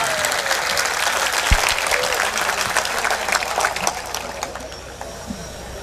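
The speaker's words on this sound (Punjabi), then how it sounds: "ਇਵੇਂ ਤਾੜੀ ਸੁਣਾਓ" Audience applause at a Saraiki and Urdu poetry mushaira, a dense sustained burst of many hands clapping that carries on steadily throughout before easing slightly near the end.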